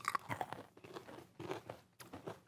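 Sugar-coated frosted cranberries crunch up close while being chewed, in four or five sharp, crisp bursts with brief pauses between them.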